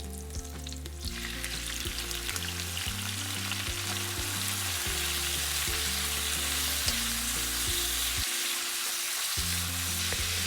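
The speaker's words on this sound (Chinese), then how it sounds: "炒至牛腩上色" Beef brisket stir-frying in oil with garlic and onion, a constant close sizzle running throughout, overlaid by a low repeating hum.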